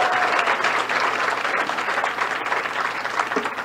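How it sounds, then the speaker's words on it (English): A large audience at Gary Hart's May 1987 withdrawal from the presidential campaign applauds steadily, a dense, sustained wash of clapping that carries on for several seconds without any voices. "Let's hold down the applause."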